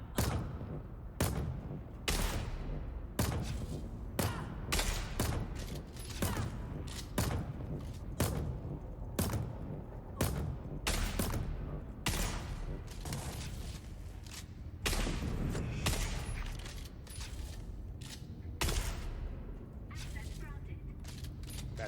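Rapid bursts of gunfire from the video game Dune: Awakening crack out again and again over about twenty seconds, loud, close and irregular, with mechanical clatter between volleys.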